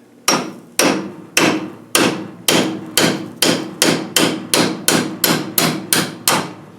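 Hammer tapping a stuck Land Rover Defender bonnet pin: about fourteen sharp metallic strikes in a steady rhythm, quickening slightly toward the end, loud and close with no talking.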